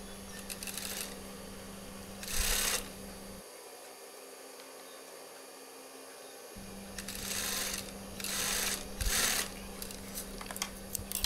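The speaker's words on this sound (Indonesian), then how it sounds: "Kemudian kita jahit mengikuti jahitan yang sudah ada" A sewing machine stitches a koko kurta seam in short bursts, its rapid needle chatter starting and stopping several times with a steady motor hum between runs and a brief quiet pause midway.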